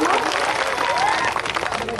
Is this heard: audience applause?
yes